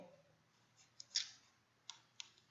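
A few faint, sharp computer mouse clicks come one by one in a quiet room, with a small rustle between them.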